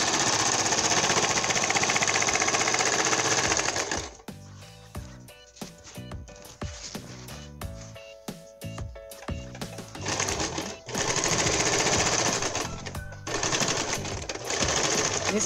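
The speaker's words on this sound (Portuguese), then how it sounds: "E agora vamos lá na máquina, então, passar a costura aqui." Sewing machine stitching a seam on a pillow cover, running in loud continuous rattling bursts that stop, leaving quieter handling sounds, then start again for a second long run.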